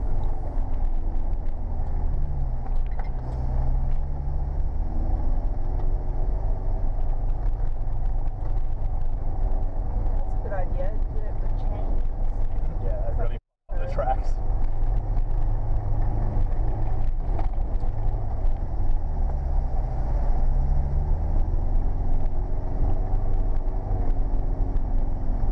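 A Subaru with a broken, fallen-apart rear muffler drives a wet off-road track, its engine giving a continuous loud rumbling drone with a single brief cut partway through.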